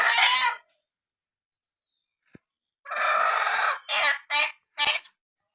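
Two native country chickens give loud, close squawks and clucks in short bursts separated by silence, with a single sharp tap in one gap.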